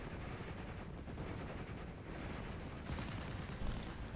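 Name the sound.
aircraft strafing gunfire in Steel Division: Normandy 44 video game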